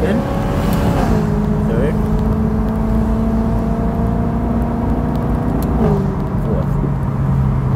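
A BMW M3 E9x with a full X-pipe exhaust pulls hard through its gears, the raspy engine note rising then dropping at each shift, loud and close beneath a voice.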